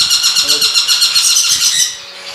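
A conure parrot gives shrill, repeated high calls in a quick, steady series, fairly close and loud, then the calls break off near the end.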